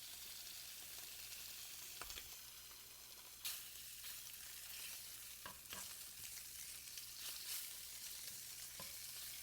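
Pieces of wild hog pork fry in their own rendering fat, giving a faint steady sizzle with occasional stirring scrapes and small pops, no talking.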